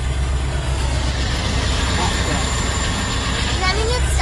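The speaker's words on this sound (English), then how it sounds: "It's pumped the air tanks back up, and when it gets to a certain point, the valve goes shh, and it releases the last little bit because it overinflated." Air hiss from a freight train at rest, with a pressure valve venting the last bit of air after the brake reservoirs are pumped back up, as a steady loud whoosh over constant low rumbling near the track.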